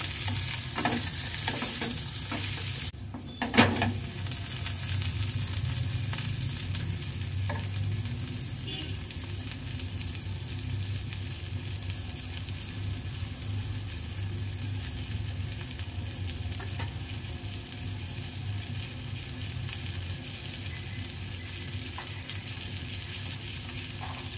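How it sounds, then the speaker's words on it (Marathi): Pomfret stuffed with prawns fries in a pan, a long steady sizzle with a brief clatter early on as the fish goes in, close and even, no talking. "2-2 तळून घेऊया, म्हणजे कसं चांगलं होतील। एक साइड आपण परतून घेऊया।"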